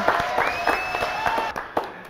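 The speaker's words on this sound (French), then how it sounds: "On l'applaudit." An audience claps in a French TV studio, with a short burst of applause mixed with a sustained tone and some background voices.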